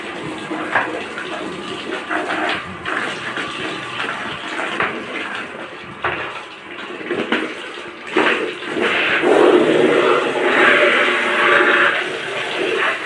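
Hot water runs and splashes while pigeon feeders and drinkers are rinsed and scrubbed, a fluctuating close-up gush with clattering handling noises that swells louder toward the end.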